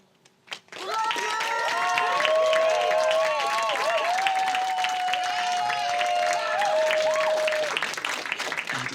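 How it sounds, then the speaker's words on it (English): An audience breaks into steady, sustained applause after a brief knock, with clapping filling the room for about seven seconds alongside a lingering held tone before fading. "Round of applause for J9 as well"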